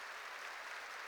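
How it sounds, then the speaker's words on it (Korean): A church congregation claps during a sermon, a dense, steady wash of many hands held at an even level throughout, with no voice on top. "박수를 치려면 세게 치라고요."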